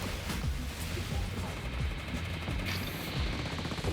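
Machine gun fire in the video game Ghost raid against the Titan Cerberus comes as dense rapid bursts over a constant loud rumbling game background, with repeated impact thuds throughout.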